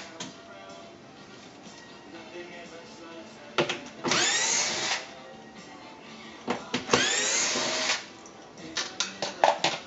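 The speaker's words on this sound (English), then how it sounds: "it's just a simple matter of removing these quarter inch hex bolts here" A power driver spins out quarter-inch hex bolts from the control panel of a Maytag MDB7601 dishwasher in two whirring bursts of a few seconds each, followed by short, quick pulses over a low background hum.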